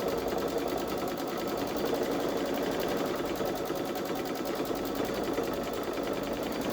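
Babylock Solaris 3 embroidery machine stitching an edge-to-edge quilting pattern onto a sweatshirt, a steady, fast mechanical whir with rapid needle rhythm running continuously at close range.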